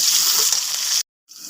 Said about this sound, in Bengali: তেলটা গরম হয়ে গেলো, দিয়ে দেবো একটা তেজপাতা আর পেঁয়াজ।